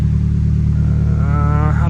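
A Nissan S14 Kouki engine runs at a steady idle, a loud, close, low droning hum, with a voice briefly heard over it near the end.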